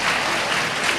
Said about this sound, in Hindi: बहुएं ताली तो बजा दो